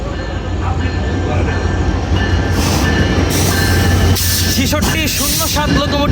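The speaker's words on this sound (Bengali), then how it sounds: "6607 লোকোমোটিভ নিয়ে এগিয়ে যাচ্ছে ঢাকার উদ্দেশ্যে আন্তনগর রূপসী বাংলা এক্সপ্রেস" The Rupashi Bangla Express, an intercity passenger train hauled by locomotive 6607 and bound for Dhaka, rumbles past loud and close with steady rail noise and wheel clatter throughout, a brief squeal near the end, and faint voices underneath.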